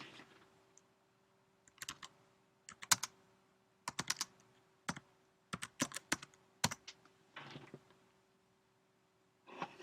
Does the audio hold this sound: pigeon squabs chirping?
no